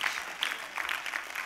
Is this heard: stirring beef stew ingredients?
no